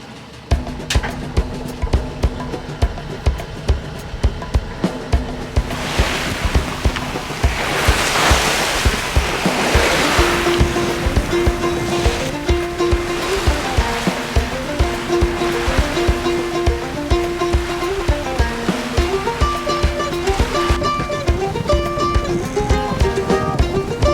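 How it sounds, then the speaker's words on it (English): A sailboat running through waves in strong beam wind in Bahia Magdalena, Mexico: loud, close rushing water and surf wash over steady wind buffeting, with rhythmic creaks and rattles from the boat and no talking. "We are having quite the spirited sail out here. The wind is great."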